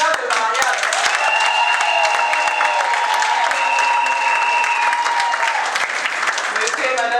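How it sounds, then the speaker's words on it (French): Warm applause from a crowd at a civil wedding ceremony, steady clapping that fills the whole stretch, with voices mixed in underneath. "je vous demande d'applaudir le certificat de mariage"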